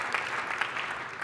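A trade-show audience at a fitness technology panel claps, a brief, fairly soft patter of many hands with a few sharper slaps standing out.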